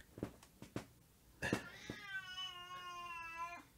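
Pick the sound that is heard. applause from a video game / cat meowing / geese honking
cat meowing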